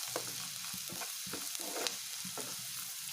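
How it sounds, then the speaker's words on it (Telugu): Onions frying in a pan with salt, turmeric and chili powder for an alasanda karam, a steady close sizzle broken by repeated scraping stirs, with no talking. "వేసి కొద్దిగా ఫ్రై చేయాలి"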